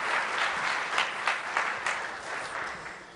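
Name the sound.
audience applause at a presentation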